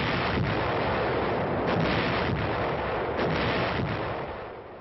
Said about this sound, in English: the artillery moves up too